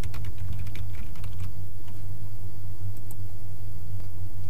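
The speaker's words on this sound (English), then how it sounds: "Search the catalog by typing Library Workshop" Someone types on a computer keyboard in a quick run of soft clicks that thins out toward the end, over a steady low mechanical hum.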